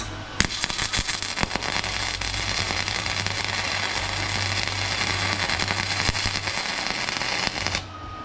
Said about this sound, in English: So I'll go ahead and weld that together and pull that one out.